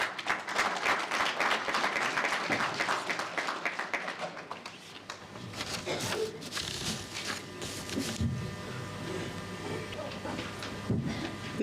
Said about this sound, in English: Let's welcome her with the clap.